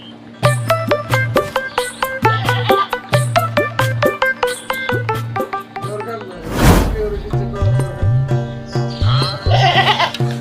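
A goat bleats repeatedly in a rhythmic series of nasal calls, close and loud, with a brief louder burst partway through and further bleats afterward.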